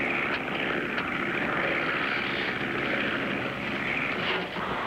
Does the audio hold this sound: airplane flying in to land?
yes